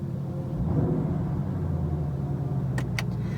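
A Ford Shelby GT500 engine idling low and subdued in quiet exhaust mode, a steady muted rumble close by, with a couple of brief faint clicks near the end.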